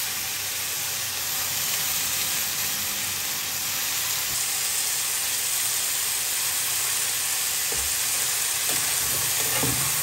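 Vegetables fry in a pan with salt, green chilies and turmeric, giving a loud, continuous close hiss and sizzle with a few soft stirring knocks toward the end.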